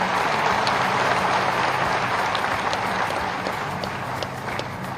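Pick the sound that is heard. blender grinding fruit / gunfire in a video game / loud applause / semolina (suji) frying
loud applause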